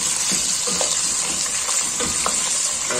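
Half a kilo of chicken frying with browned garlic in a karahi, a steady loud sizzle throughout with scattered clinks and scrapes of stirring, no voices.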